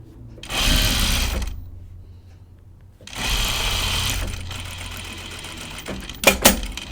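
A sewing machine stitches around the curve of a collar in two sustained runs separated by a pause, close and steady, ending with a couple of brief clunks.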